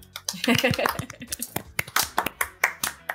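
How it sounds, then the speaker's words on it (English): Scattered hand claps ring out over a murmur of voices, a modest round of applause from a small live debate-show audience that thins into sparse individual claps. "you can all have a bigger round of applause"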